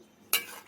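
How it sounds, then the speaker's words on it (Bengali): A single quick clatter of a spoon stirring potatoes and eggplant into simmering fish curry gravy in a pot, a short sharp scrape over quiet kitchen background. "দিয়ে ভালো করে ঝোলের সাথে সব মিশিয়ে দেবো"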